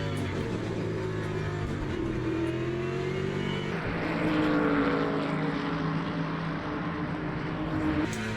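GT3 race cars in the sim racing game Le Mans Ultimate roar nose to tail into turn one, with layered engines rising and falling in pitch as they brake and accelerate at steady loudness.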